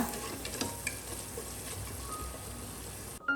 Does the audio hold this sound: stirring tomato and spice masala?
yes